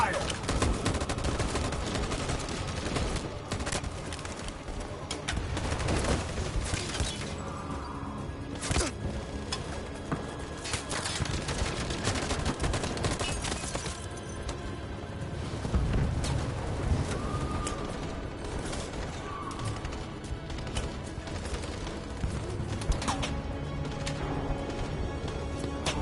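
Sustained automatic gunfire in the video game Detroit, loud dense volleys and rapid bursts continuing throughout with brief lulls, shouted voices occasionally mixed in.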